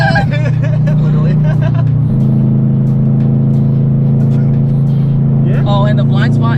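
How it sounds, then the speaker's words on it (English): A Honda car's engine revving hard through VTEC while racing alongside on the road, a loud steady droning pitch that steps up mid-pull, heard from inside a widebody FRS/BRZ with people talking over it. "Oh, the Honda wants to race. VTEC!"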